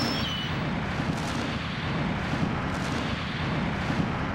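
Rumbling blasting for the Panama Canal expansion builds into a continuous dense roar of overlapping explosions, with a few sharper bursts standing out from the heavy low wash.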